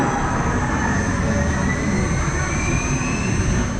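Ride trains idling at a station at Disneyland Paris give off a loud, steady mechanical roar and hum with a faint rising whine, continuous and close throughout.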